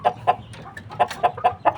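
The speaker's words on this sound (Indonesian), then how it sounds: "di bawahnya saya memiliki sepasang ayam Bangkok" A pair of Bangkok chickens, the rooster clucking in a run of about seven short, evenly spaced calls, close and fairly loud with no talk.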